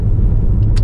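An Acura TL engine with a busted exhaust flex pipe, a loud, close, deep rumbling drone held steady for under a second with no talking.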